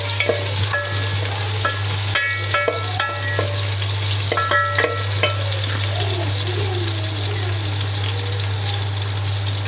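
Onions fry in a pan with a steady sizzle over a low continuous hum, with a few quick metallic clicks of a spoon against the pan early on and no talking.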